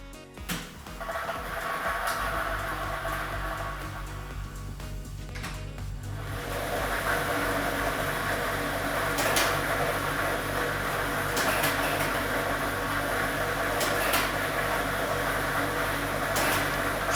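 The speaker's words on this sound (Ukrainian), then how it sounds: "ми вмикаємо лототрон." A lottery drawing machine switches on and churns numbered balls for Loto Maksyma, giving a continuous whirring rattle of tumbling balls that grows steady and dense after a few seconds.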